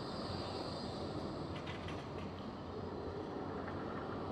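Bombardier tram pulling into a Blackpool stop, a continuous broad rumble of wheels and running gear with faint squeaks and clicks over it, heard from nearby.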